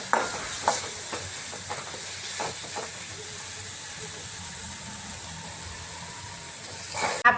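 Spice tempering sizzles in a pan for potato vada filling, a soft continuous hiss with several sharp crackles and stirring knocks early on, fading to a steady quiet sizzle.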